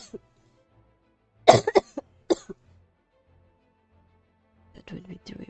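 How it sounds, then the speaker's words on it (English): A person coughs in a few sharp, close bursts near the start and middle, followed by quiet, then a brief stretch of soft talking at the end. "I have a cough and I'll just keep coughing."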